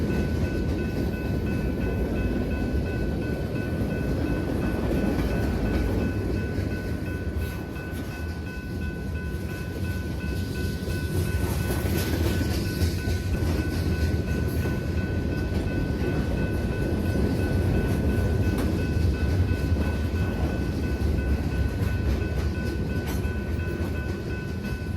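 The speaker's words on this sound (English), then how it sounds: "Here we have the end of the train" A long freight train rumbles past near Rosenberg with steady rolling roar and faint clickety-clack of wheels on rail joints, loud and continuous throughout.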